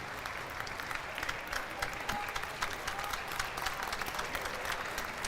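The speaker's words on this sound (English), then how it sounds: "He'll get a hand as he pops up. Bit of a standing ovation." A basketball gym crowd applauds steadily and warmly for an injured player getting back up, sustained clapping filling the hall for several seconds at a college men's game.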